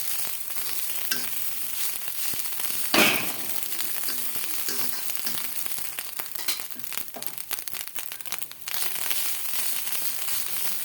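Shena (eggs) frying in oil in a pan, heard as a continuous close sizzle with crackling, a sharp pop near the start and brief stirring scrapes, with no talking.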